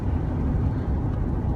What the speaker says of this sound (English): I hear a lot of road noise.